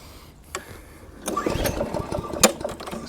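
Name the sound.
BCM Big 20 lawn mower engine running and stalling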